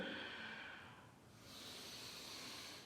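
Slow, soft exhalation during a parent-and-child yoga session: a long breathy hiss that fades and then rises again, faint and close, with no talking.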